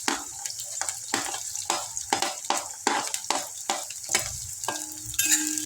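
Capsicum tossed into a frying pan for a veg soya biryani and stirred with a spatula, giving a steady rhythmic series of scraping strokes over a soft sizzle, close and alone.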